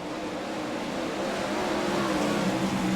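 Race cars circling a dirt speedway during a national touring race, a steady dense engine roar with a droning pitch that rises slightly, heard from a distance with no talking.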